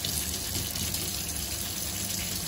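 A scratched pouch found while fishing being washed with a sponge and Fairy Liquid Original Lemon, a steady rush of running water with close scrubbing.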